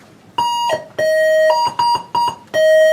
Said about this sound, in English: So here's the burglar alarm.